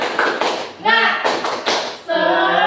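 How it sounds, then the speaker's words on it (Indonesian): Fourth-grade primary school pupils in a classroom do a rhythmic spirit clap, with short bursts of sharp group claps in a set pattern alternating with loud chanted voices, close and energetic. "Kita tepuk semangat dulu ya. Tepuk semangat."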